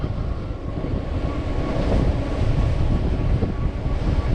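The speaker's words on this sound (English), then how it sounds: "Windy." Steady wind rushes and buffets the microphone outdoors while cycling over the Wolds on a fat-tyre eBike, a continuous rough roar with no voices.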